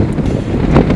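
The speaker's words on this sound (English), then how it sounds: "As you can hear, it's a windy day." Wind buffets the microphone in a loud, continuous rumble at an airport on a cold day, gusting slightly stronger toward the end.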